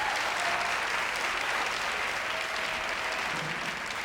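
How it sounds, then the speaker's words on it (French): Studio audience applauding a guest on a French-language Quebec talk show, a steady, dense burst of clapping that holds loud and even throughout, with no voices over it. "je pense qu'on peut l'applaudir"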